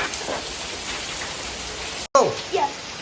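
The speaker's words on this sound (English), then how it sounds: "This is raining monsoon season." Steady monsoon rain falling in Goa, a dense, even hiss of drops close by with a brief cut and a few scattered louder spatters near the end.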